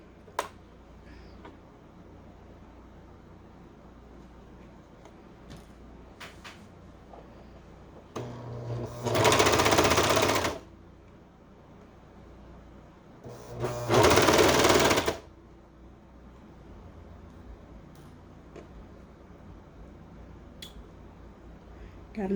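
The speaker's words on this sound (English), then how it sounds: "So now we're going to go over to the serger, and we're just going to serge all the way around." A serger overlocks fabric around the waistband of bell-bottom pants, running in two bursts of steady, loud mechanical stitching, each about two seconds, separated by quiet handling sounds.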